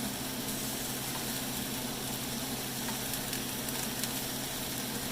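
Shrimp and vegetables in a stir-fry pan give off a dense, even sizzle that holds steady and close throughout, with faint clinks as the food is turned and no one talking.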